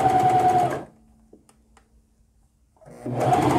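A sewing machine stitches fabric in a steady, loud, close whir. It stops for about two seconds with a few small clicks, then the whir starts again, with no talking.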